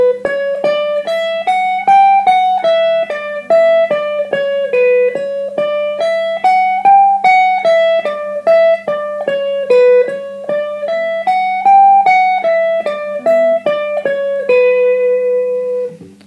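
Guitar speed-picking exercise played in descending groups of four: a steady, rapid stream of evenly picked single notes that rise and fall in repeating waves, clear and close with no talking.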